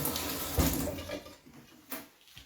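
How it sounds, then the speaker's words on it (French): Hands being rinsed under a running kitchen tap while preparing Kabyle couscous with beans: short splashing bursts of water against the sink, close and fairly soft, with brief pauses between rinses. "je vais juste me rincer les mains"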